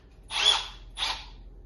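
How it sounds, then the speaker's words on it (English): Two short bursts from a Milwaukee M12 FUEL cordless hammer drill running on a 2 amp-hour battery, each a whirring spin-up lasting about half a second, heard close and clear with no talking. "Let's move over to the hammer drill"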